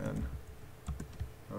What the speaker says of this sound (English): let's just type her name in